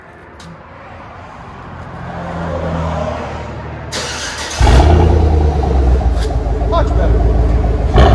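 A Chevy Tahoe 5.3L V8 exhaust heard from inside the cabin: a low rumble builds gradually, then jumps into a loud, sustained deep rev that holds to the end, with a brief spoken remark over it.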